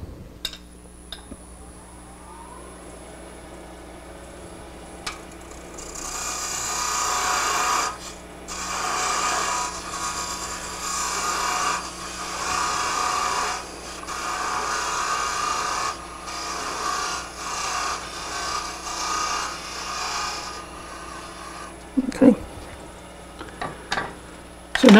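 Wood being turned on a lathe with a hand-held cutting tool, a steady scraping rasp that runs for about fifteen seconds over a constant motor hum, followed by a few sharp knocks.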